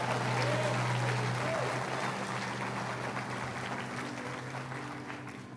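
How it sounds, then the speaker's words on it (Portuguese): Church congregation applauding together, a dense steady wash of many hands filling the room, with musical tones held underneath and the clapping slowly thinning toward the end. "dê uma salva de palmas a Jesus"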